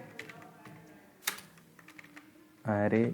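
Keys tapped on a computer keyboard while code for a selection sort program is typed, a quick run of light clicks through the first seconds, with a burst of voice coming in loud near the end.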